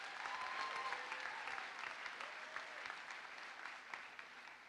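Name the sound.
graduation audience applause for faculty and staff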